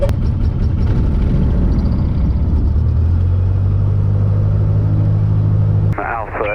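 A Cessna 152 light aircraft's piston engine drones low and steady while taxiing out to the runway, loud and close in the cabin, with its pitch shifting partway through before a sudden cut to quieter sound near the end.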